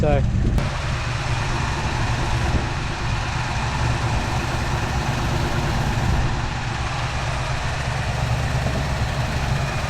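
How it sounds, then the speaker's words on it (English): The engine of a 1974 Ford F100 truck idles steadily at close range, a low rumbling drone with a faint uneven pulse from valves puffing out the exhaust, running continuously with no talking. "you could hear the fluffing out the exhaust"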